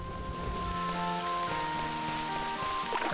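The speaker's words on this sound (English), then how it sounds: "Of course it's raining." Rain falls in a fantasy adventure video game, a steady soft hiss that stays constant throughout, with faint sustained musical tones underneath and no talking.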